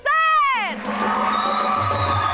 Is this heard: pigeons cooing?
no